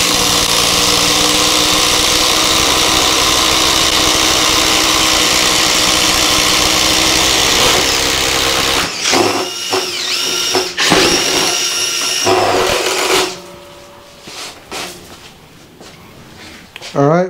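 A Makita 18V impact driver with a 3/4 inch impact socket drives a 1/2 by 4 inch lag bolt. It gives a loud, close, continuous buzzing rattle for about nine seconds, then stops, leaving quieter handling noises.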